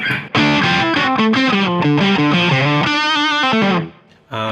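Through a Boss DS-1 distortion pedal with reverb switched off, an electric guitar plays a quick sequence of distorted notes, loud and bright, with a brief drop near the end before a final note.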